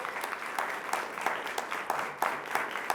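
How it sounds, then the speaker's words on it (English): Audience applause for two high-school quiz teams after a varsity quiz semifinal match in Las Vegas: steady, moderately loud clapping from a small crowd with no talk over it. "Could we have a round of applause for both teams?"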